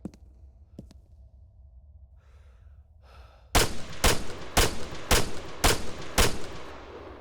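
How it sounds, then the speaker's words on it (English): Six evenly spaced rifle shots ring out in ArmA 3 after a quiet stretch of faint rustling, each crack loud and close with a short decaying tail. "Once I get up here and prone, you fire the remaining 6 shots."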